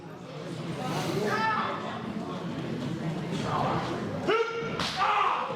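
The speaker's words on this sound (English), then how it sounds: "Sickening thud." A loud body slam thuds onto a wrestling-ring mat during a live independent wrestling event, with a sharp impact near the end over steady commentary and crowd noise.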